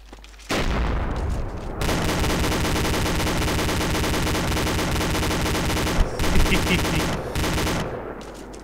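Sustained turret gunfire in a military video game with an AAV vehicle, loud continuous rapid bursts that are close and dense and broken by a couple of brief pauses.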